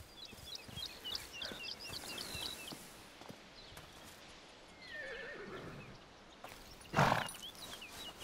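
Horses in A Plague Tale: Requiem whinny and neigh amid a soft clip-clop of hooves and footsteps, a louder snort or whinny bursting near the end over a quiet outdoor ambience.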